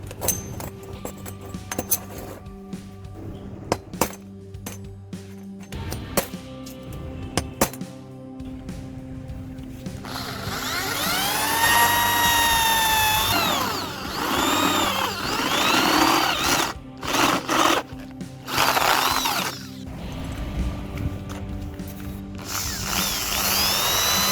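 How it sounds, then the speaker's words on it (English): A few sharp metallic clicks and knocks, then a power drill whines loudly and its pitch rises and falls as it bores holes into 12 cm metal tube pieces. "Mark and drill holes in these pieces as well."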